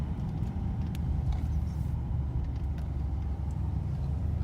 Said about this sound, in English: Now it actually sounds like it has a V8 in it.